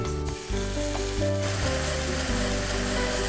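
Loud, steady sizzling of water deglazing a hot pan over a live flame, a continuous frying hiss that swells briefly early on and then holds.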